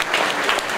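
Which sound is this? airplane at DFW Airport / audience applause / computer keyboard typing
audience applause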